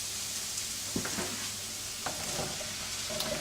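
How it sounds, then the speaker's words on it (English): Courgettes and mushrooms fry in a pan with a soft, even sizzle, while a spoon stirs through them in scattered light scrapes and taps. "we're just going to keep stirring them until they soften slightly"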